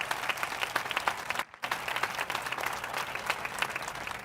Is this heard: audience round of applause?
yes